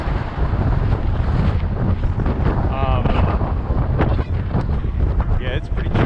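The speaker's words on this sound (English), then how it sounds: "I think the biggest thing is the wind. We have gusts of like 26 miles per hour" Gusty wind buffets the microphone of a cyclist riding through New York City on a chilly day, a loud constant roar with a voice speaking briefly underneath.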